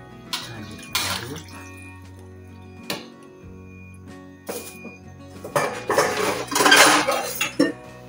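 A spoon stirs a pot of tunjang (kikil) stew after water is added, giving close metallic clanks and scrapes against the pot with sloshing bursts between them.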